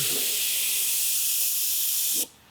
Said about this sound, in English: let me spray a row here